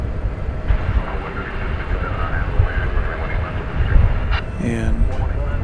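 A Boeing Dreamliner airliner at DFW Airport rolls down the runway for takeoff at night, its steady distant engine roar heard under people talking.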